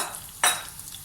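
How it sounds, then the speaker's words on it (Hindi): Omelette egg mixture hitting hot oil and being stirred with a spoon, a sudden sharp sizzle over a faint steady frying hiss, brief and close, with no talk. "अब इसके अंदर ये ऑमलेट का अमेज़ा जो हमने बनाया है ये डाल देंगे और इसको चम्मच की मदद से आहिस्ता आहिस्ता हिलाते रहेंगे।"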